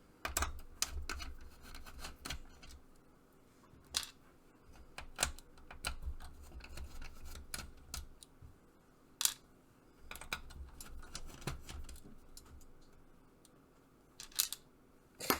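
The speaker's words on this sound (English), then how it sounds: "you're going to have to take off these 4 screws up here" Screws come out of a Sega Genesis Model 1 console with small, sharp clicks and ticks from a screwdriver and metal parts, scattered irregularly across quiet stretches, close and fairly faint.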